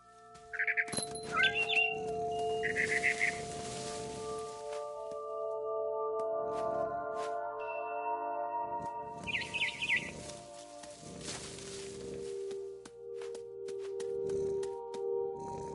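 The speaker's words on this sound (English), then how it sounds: "Then I heard chirping outside my window. It was a barn swallow going back to her nest." A barn swallow chirps near a window in What Remains of Edith Finch. A few quick high twitters come in short clusters over sustained ambient tones and scattered soft game sounds.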